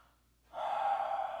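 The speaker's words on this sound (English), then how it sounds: "Breathing." A slow, deep breath drawn in during a yoga stretch, a soft steady airy rush that swells after a brief quiet moment and holds close to the mic.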